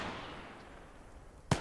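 Grenade blast in the WWII strategy game Gates of Hell, a single sharp burst near the end following a low rumbling ambient bed, moderately loud against quiet background.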